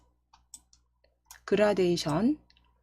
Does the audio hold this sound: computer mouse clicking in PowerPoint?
yes